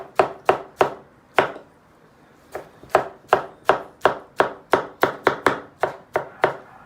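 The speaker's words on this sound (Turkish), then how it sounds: "Domatesleri çok ince doğrayacağız." A knife finely chops tomatoes on a cutting board in quick, sharp chops, a short burst, a pause, then a longer steady run of even strokes, close and clear.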